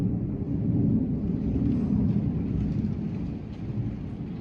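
Thunder from an intense storm rolls as a deep, continuous low rumble, steady and fairly loud for several seconds, with a faint wash of rain or wind behind it and no talking.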